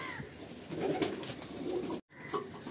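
Madrasi pigeons coo in low, murmuring bursts close by, with a brief cut to silence near the end before the cooing resumes.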